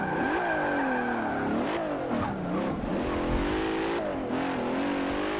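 Car engine in the Forza Motorsport 7 racing game, after striking a tire wall, revving loud and steady with rising and falling pitch through gear changes, continuous across the whole stretch with no talk.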